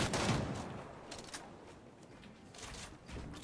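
Bursts of rapid video game gunfire from a gold combat SMG, fairly quiet, with several quick volleys and shots spread across the moment alongside in-game action sounds.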